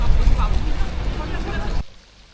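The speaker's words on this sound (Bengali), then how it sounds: "কনকনে একটা ঠান্ডা হাওয়া বইছে।" Strong, biting cold gusty wind buffets the microphone with a loud low roar under an overcast sky in Bristol, England, then cuts off abruptly near the end, leaving only a faint hush.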